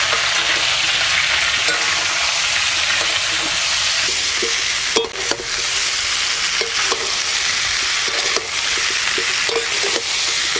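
Chopped tomato fries with raw potatoes in a pan for village-style aloo dum, a steady crackling sizzle with occasional knocks and scrapes of stirring, fairly loud and close.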